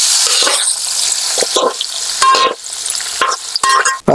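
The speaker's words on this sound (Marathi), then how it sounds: "तर त्या तडक्यामध्ये ना आपल्या मिरच्या मित्रांनो थोड्याशा आपण हलवून घ्यायचे आहेत." Chillies are stirred into a sizzling tadka tempering for boiled lemon-chilli pickle, giving loud close crackling bursts and sputters with metallic clinks of the spoon against the pan between softer hissing gaps.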